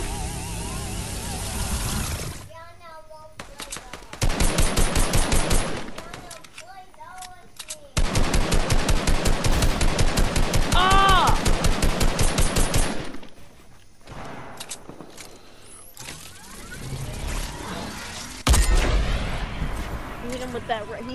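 Video game gunfire in a team battle match, including a railgun: several long, rapid automatic bursts, loud and close, separated by short pauses, with a player talking over the action.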